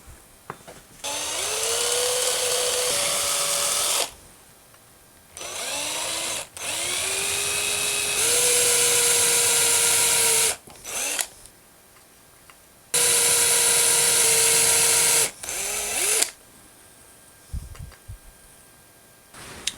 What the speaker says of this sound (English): I'll drill through from both sides with the Forstner bit